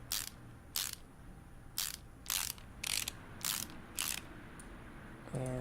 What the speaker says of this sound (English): Put the valve covers on.